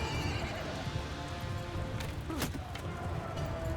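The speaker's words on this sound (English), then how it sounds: "They've got horses." Horse neighing in the Mount & Blade II Bannerlord battle game, a clear whinny rising in the middle over a steady din of hoofbeats and battle noise, with no talk.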